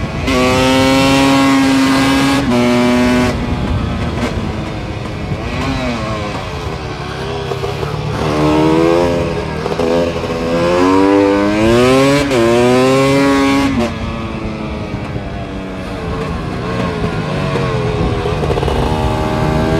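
A motorcycle is ridden ahead on a street, its engine loud and close for the whole stretch, rising and falling through repeated revs and gear changes.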